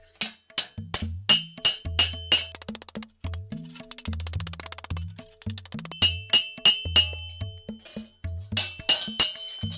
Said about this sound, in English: now we hammer these legs flat.